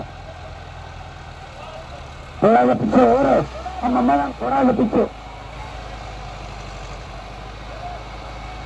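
A Massey Ferguson 385 tractor engine idles with a low, steady rumble running beneath the whole stretch, while voices shout instructions over it in the middle.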